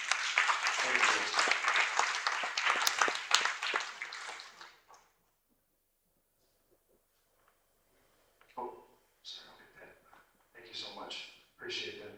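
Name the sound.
audience applause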